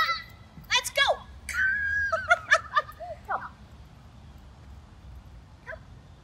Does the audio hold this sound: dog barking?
yes